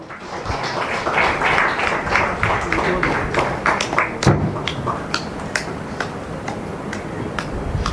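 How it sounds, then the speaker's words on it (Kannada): Applause from an audience at a Yakshagana event in Mumbai, welcoming a chief guest to the stage: dense, sustained clapping with sharp individual claps standing out, steady and fairly loud throughout. "ಜೋರಾದ ಚಪ್ಪಾಳೆ."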